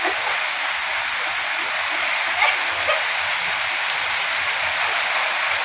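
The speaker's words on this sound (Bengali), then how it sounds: "বৃষ্টি শুরু হয়ে গেছে, কি করবো?" Steady rain pours continuously throughout, a dense, even hiss of drops striking surfaces with no pauses or changes in intensity.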